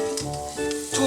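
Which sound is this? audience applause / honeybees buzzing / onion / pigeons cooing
onion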